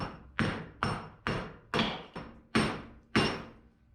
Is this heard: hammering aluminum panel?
yes